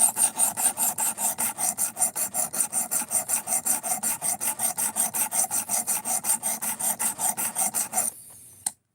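A knife blade is drawn against a sharpening stone in quick, even rasping strokes, about five per second, each a scratchy close-up scrape, continuing steadily before stopping abruptly near the end.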